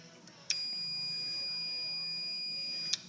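A multimeter on continuity setting emits a steady high-pitched electronic tone for about two and a half seconds while probing a window switch from a 2005 Chevy Aveo, starting and stopping abruptly.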